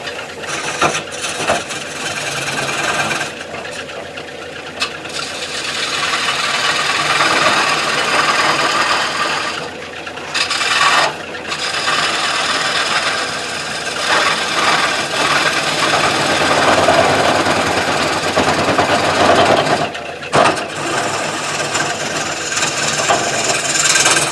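A new wood lathe turns a bowl blank, giving a steady rough scraping and rubbing as the tool cuts the spinning wood, loud and close with a few brief pauses.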